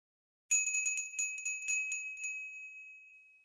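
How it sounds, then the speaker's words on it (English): A small bell rings in a quick run of bright, clear strikes, then its tone lingers and slowly fades out in otherwise quiet surroundings. "I think the dressing bell has sounded."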